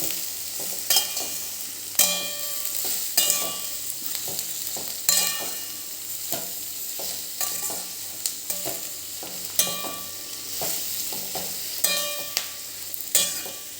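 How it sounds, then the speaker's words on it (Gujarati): Vegetables including capsicum sauté in a pan for spring rolls, giving a steady soft sizzle broken by repeated sharp clicks and scrapes of stirring, close and alone with no talk. "આ બધા જ વેજીટેબલને આપણે થોડાક સાંતળી લઈશું"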